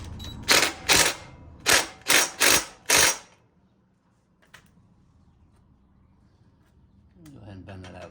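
A 12 mm bolt on the nerf bars of a 2nd-gen LTZ 400 ATV is tightened with five loud, sharp mechanical bursts in quick succession, then near silence and a faint rumble.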